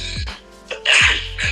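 A sneeze bursts out close and loud during a podcast conversation, sharp and breathy, with a brief lead-in before the main blast.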